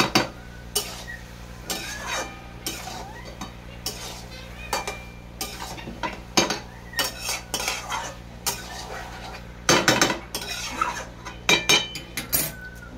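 A spatula scrapes and clanks around a pan of vegetarian cabbage curry just after coriander leaves go in. The metal strikes come in irregular bursts over a faint sizzle, close and alone, with no voices.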